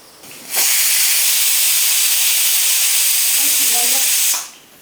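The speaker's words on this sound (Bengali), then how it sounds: "ঢাকাটা লাগিয়ে আমি একটি দুটো সিটি দিয়ে নেব" A pressure cooker whistle blows a loud, steady hiss of steam for nearly four seconds, starting abruptly and cutting off, while cooking bamboo shoots with mutton in a kitchen.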